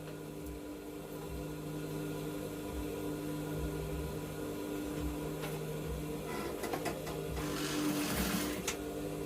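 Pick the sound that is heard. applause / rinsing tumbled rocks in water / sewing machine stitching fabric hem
sewing machine stitching fabric hem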